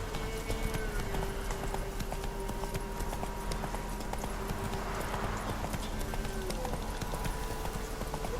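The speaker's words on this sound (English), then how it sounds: "Time to water the horses." Horse hooves clip-clopping steadily in the Witcher 3 video game, a continuous even trot heard up close over a low ambient game soundscape with no talking.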